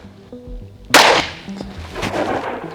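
A single loud, sharp crack from a 9mm pistol firing SimX Defense Core +P ammunition at a range is heard close by, followed by a quick decaying tail, with faint tones beforehand.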